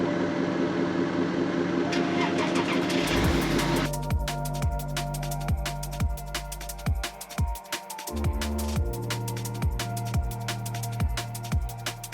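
Car engine turning over with a cranking starter, then catching and running with an uneven, rumbling rhythm; loud and close, without any voices.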